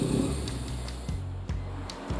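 A Mazda RX-7 with a rotary engine idles after a cooling system repair, giving a low, steady rumble with soft periodic thumps, recorded close by at a fairly quiet level.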